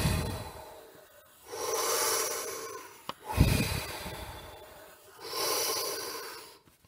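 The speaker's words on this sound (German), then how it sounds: "Der Kreislauf würde aussehen so, wir atmen aus." Slow breaths during a breathing exercise, with long airy exhalations and inhalations swelling and fading in turn, close to the microphone, plus a brief click partway through and no speech.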